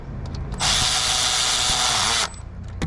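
A ratchet tightens the cylinder head bolts on a 6.4L Power Wagon engine with one loud, close, steady whirring burst that lasts under two seconds, and no one talks.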